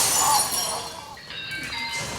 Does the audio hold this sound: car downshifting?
no